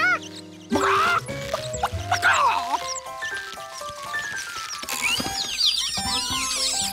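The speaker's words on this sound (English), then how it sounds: "the chicks enjoyed being rescued by George too much to do it just once" Cartoon duck chicks from Curious George peep and quack in quick, high chirps over a busy, bouncy orchestral music score, with the calls growing denser toward the end.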